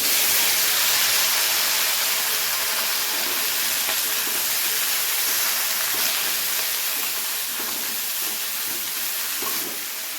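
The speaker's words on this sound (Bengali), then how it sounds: "এই একইভাবে বেগুনগুলোকেও ভেজে তুলে নেব আগে।" Eggplant pieces sizzling in hot oil in a pan, a steady hiss of frying with small crackles and pops scattered throughout, tapering off a little toward the end.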